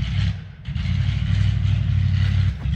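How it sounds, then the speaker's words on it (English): Truck engine revving and labouring as it struggles to pull away, a loud low growl that dips briefly then holds a strained, steady drone, heard without talk. "someone who just has a truck that's not doing well, and they're just having a hard time getting it to, like, go"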